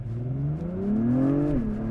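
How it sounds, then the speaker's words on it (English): A 2021 Acura TLX Type S sport sedan in Sport Plus mode rises in pitch as its exhaust revs steadily, then the note drops sharply near the end, loud and close with no talking. "That is real exhaust"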